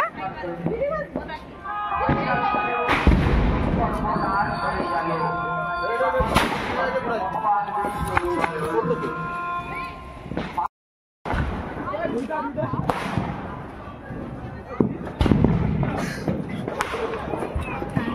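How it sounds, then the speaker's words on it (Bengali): Firecrackers burst during a Kali Puja celebration, several sharp loud bangs scattered over the stretch, with people chattering and calling out between and under the blasts. "ঠাকুমারও একটু দেয়, বাজি ফুটেছি আমরা"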